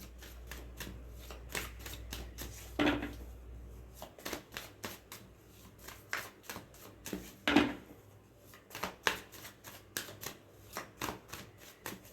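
Reading cards are shuffled by hand in short bursts of soft riffling and flicking, close up and quiet, with a few heavier slaps between the runs.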